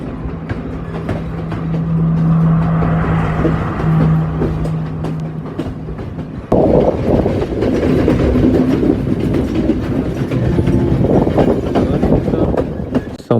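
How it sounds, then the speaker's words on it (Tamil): A loud train on the Colombo to Badulla line in Sri Lanka rumbles past close by, its wheels clattering rhythmically over the rails in a steady, continuous roar. "இங்கே ஒரு ட்ரெயின் வந்து நம்மளை க்ராஸ் பண்ணி போகிறத நம்ம பார்க்கலாம்."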